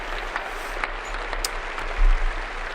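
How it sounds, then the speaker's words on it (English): An audience at the Labour Party Conference 2025 applauds Rachel Reeves' speech with dense, steady clapping from a large hall. It carries on evenly and swells slightly near the end, with no voices over it. "Anyway, they're just clapping now."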